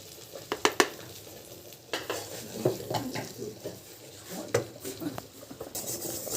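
Flour frying in butter in a pan for white sauce, with soft sizzling and intermittent scraping and clinks of a spoon stirring against the pot, close and moderately loud.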